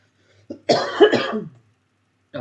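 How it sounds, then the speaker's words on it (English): A single harsh cough from someone with a bad two-day cough: a short throat-clearing catch, then a strong, close rasping burst, followed by silence. "I've had a really bad cough the last 2 days."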